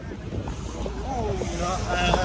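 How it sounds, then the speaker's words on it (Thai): Strong wind blows hard against the microphone in a continuous broadband roar with gusting swells, while voices talk over it. "เสียงลมเสียงแรงเนี่ยเด้อพี่น้องเด้อเนาะ"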